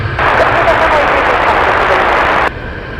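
A plane takes off from runway 33 at Anchorage airport, a loud, steady, close roar that cuts off abruptly near the end.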